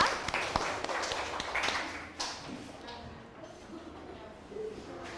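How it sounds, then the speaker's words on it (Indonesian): Students in a classroom clap together, a brisk burst of hand claps up front that thins and fades within a few seconds, leaving quieter room noise and scattered taps. "sekarang tepuk tangan untuk kita semuanya karena kalian hebat ya"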